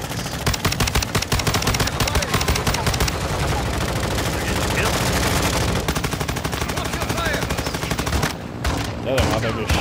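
Sustained automatic gunfire in a video game round, loud rapid machine-gun bursts rattling almost continuously, with a voice talking underneath at times.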